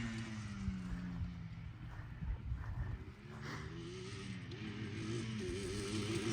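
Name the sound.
two-stroke quad engine warming up after cold start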